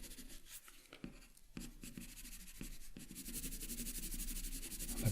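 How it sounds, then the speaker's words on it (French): Soft graphite scratching and rubbing from an 8B pencil shading on paper, quiet and close, in short strokes and then a longer continuous rub that grows slightly louder. "Je vais prendre mon 8B, et le 8B va servir pour renforcer un petit peu le contraste par endroits."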